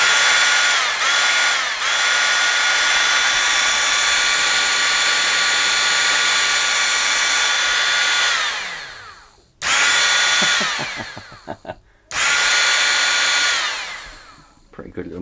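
A Ryobi EZ Clean 18V battery pressure washer motor runs loud and steady for about nine seconds, then cuts out and restarts in two shorter bursts that spin down between them.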